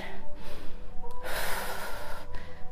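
Deep breathing during a core workout, a few close, audible breaths with one strong, sharp exhale near the middle, heard alone without speech.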